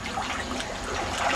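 Children splash in a backyard pool, a continuous bright wash of churning, sloshing water heard up close for a brief moment, with no voices.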